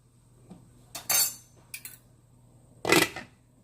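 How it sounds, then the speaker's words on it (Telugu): A metal lid settles onto a cooking pot of bottle gourd and moong dal curry, giving a few sharp, close metallic clinks and clatters separated by short quiet gaps. "మూత పెట్టేయాలి"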